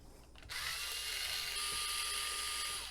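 A powered screwdriver backs screws out of the bottom cover of a VHS VCR, a steady high motor whine starting abruptly and running without pause, loud and close, with no talking.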